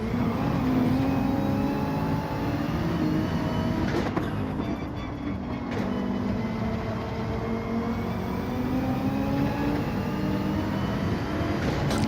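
Gr.3 race car engine in Gran Turismo 7 at Trial Mountain, a loud continuous roar with rising and falling revs through gear changes, sustained throughout with no talk.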